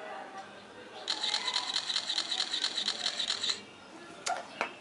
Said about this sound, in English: This is the burst mode.